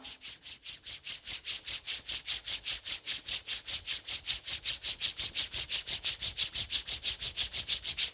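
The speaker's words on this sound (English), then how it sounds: "Rub your both palm." Palms rub together rhythmically, about five brisk strokes per second, a close dry swishing that keeps an even pace throughout.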